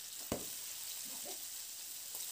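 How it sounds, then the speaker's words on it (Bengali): Green chilies fry in a pan for a bean bharta, giving a steady close sizzle with a sharp clack of stirring near the start and a few softer scrapes after. "লঙ্কাটা দিয়ে দেখুন নাড়াচাড়া করে লঙ্কাটাকে একটু ভেজে নিচ্ছি"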